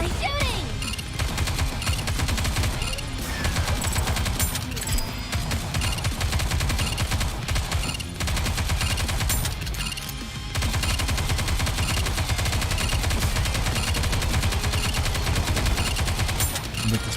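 Relentless gunfire in the shooter game Nikke: rapid automatic bursts and shots rattle almost nonstop, loud and dense, with a few brief lulls and crashing impacts mixed in.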